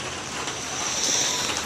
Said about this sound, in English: we have a summer rain on our hands.